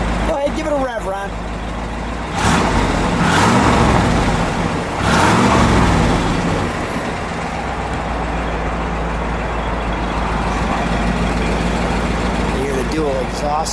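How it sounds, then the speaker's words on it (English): A 1967 Chevrolet SS 427 with dual exhaust and resonators idles close by, then rises in a few sharp revs before settling back to a rumbling idle, with people talking in between. "give it a rev, Ron."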